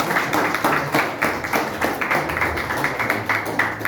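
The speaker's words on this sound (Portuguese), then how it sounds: "Aplauda ao Senhor" A church congregation at a Sunday service applauds, with many hands clapping in rapid, loosely rhythmic bursts, close and continuous, without voices standing out.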